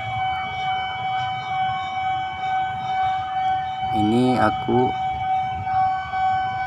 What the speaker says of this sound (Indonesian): Rupanya kereta sudah mau mulai masuk.